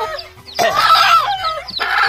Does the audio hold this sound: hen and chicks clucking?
yes